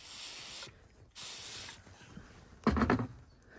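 Brake cleaner is sprayed onto a car engine in short hissing bursts. The first two spurts are steady, and a brief clatter follows.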